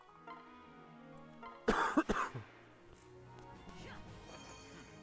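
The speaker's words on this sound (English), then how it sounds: "Got a little bit of cough coming up." A short burst of coughing, two or three harsh coughs close to the mic, with quiet background sound before and after.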